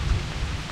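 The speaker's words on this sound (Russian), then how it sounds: "Пошел дождь." Rain falls steadily with a low rumble of thunder during a windy storm at a lakeshore fishing spot, a dense, close hiss lasting under a second.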